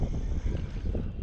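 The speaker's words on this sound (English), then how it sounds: "Wind." Wind blows across the microphone while kayak fishing on open water, making a loud, continuous low buffeting rumble that pulses in gusts for about a second.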